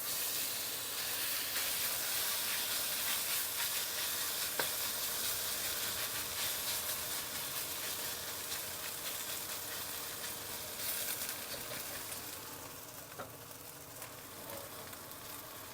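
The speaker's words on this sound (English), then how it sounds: "The idea is to cook half the pork for about a minute so it gets brown" Sliced pork searing in a hot wok, a steady loud sizzle and hiss that holds throughout, with occasional stirring clinks and no talking.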